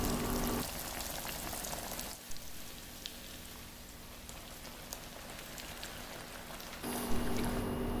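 Hot oil sizzles and crackles steadily as an omelette fries close by, with a few sharper pops and a louder burst of sizzling near the end.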